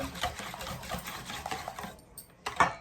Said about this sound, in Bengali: এখানে 5টা ডিম ফিটা নিচ্ছি